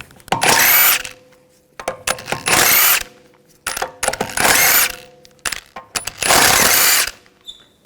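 An impact gun on a 17mm socket spins out the lug bolts on the rear wheel of a 2011-2018 Volkswagen Jetta. It fires four loud, close bursts with short metallic clinks in the gaps and no talking.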